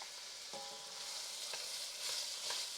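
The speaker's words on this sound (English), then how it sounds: "We'll get those onions in there. And we're just going to saute these until they start getting" Onions sautéing in a pan for soup beans, making a low continuous sizzle with a few light stirring taps, quiet and without speech.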